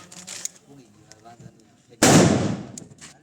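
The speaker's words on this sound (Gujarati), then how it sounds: "બધા ફટાકડા ફૂટવા માંડ્યા હે" A Diwali firecracker bursts in a village with one loud, sharp blast that crackles and fades over about a second, following quieter background chatter and faint pops.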